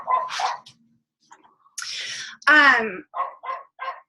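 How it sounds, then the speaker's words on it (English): A neighbor's dog barks in short separated bursts from a distance, several quick woofs and one louder drawn-out yelp, with quiet gaps between. "Really? Come on, neighbor dog. Be quiet."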